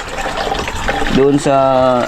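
A hand water pump at a home in Mindanao is worked, giving a splashing, gushing rush of water with creaking, squeaking pump strokes, heard close up while someone speaks over it.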